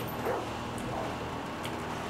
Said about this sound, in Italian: C'è un cane in mezzo alla strada.